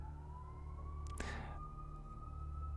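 A faint distant siren wails steadily far in the background under a quiet low hum, with one brief sharp noise midway.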